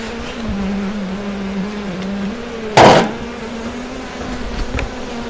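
Honeybees buzz steadily at close range during a honey harvest, a low continuous drone with one brief loud rustling burst partway through.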